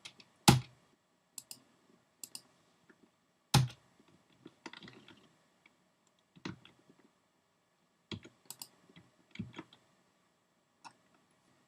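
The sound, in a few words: computer mouse clicking in Photoshop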